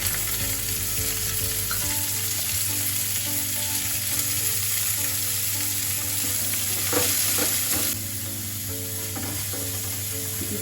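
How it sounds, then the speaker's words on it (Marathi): Garlic and fresh coriander sizzle steadily in hot oil in a wok, a dense continuous frying hiss with a few scraping stirs near the end, close and loud with no talk. "तेल तापलेलं आहे, त्यामध्ये आपल्याला हा लसूण टाकून घ्यायचा."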